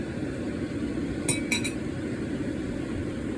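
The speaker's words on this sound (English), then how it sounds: "I want to stir it so that it doesn't burn at the bottom there." Sticky rice with taro being stirred in a pot, heard as two light metallic clinks of the utensil against the pot over a quiet, steady background hiss.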